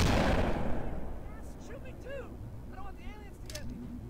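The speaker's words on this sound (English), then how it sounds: "You want to see what happens when they get touched by a blunderbuss?" Blunderbuss fire in Cursed Halo 3, a heavy blast opening the clip and then trailing off, followed by scattered whistling, chirping game effects at moderate level.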